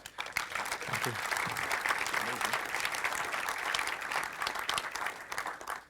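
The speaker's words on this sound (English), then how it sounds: "Give a hand of applause." Audience applauding at the close of a software engineering conference talk on event-driven architecture on Kubernetes, a dense, steady wash of clapping lasting several seconds at moderate distance, with no voices on top.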